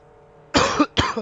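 Two harsh coughs close to the mic, one right after the other, following a brief quiet stretch.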